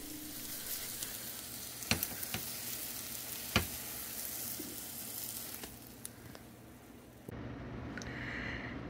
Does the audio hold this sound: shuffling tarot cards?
no